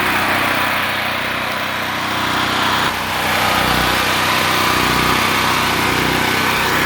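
A portable generator engine runs steadily and close as its fuel runs out, a continuous buzzing drone that briefly dips and stumbles midway before carrying on.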